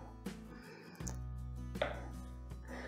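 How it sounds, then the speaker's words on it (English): A knife cuts bread into rough cubes on a board for a traditional British bread pudding, giving a few separate dull chops in quiet surroundings. "So we just need to cube these and put them in the bowl."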